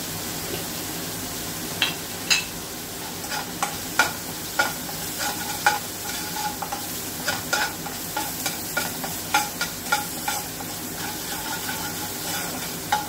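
Onions fry in a pan as they are stirred with chili powder, a steady close sizzle broken by regular spatula scrapes and knocks against the pan every second or so.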